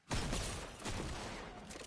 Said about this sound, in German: Ich habe Schüsse gehört.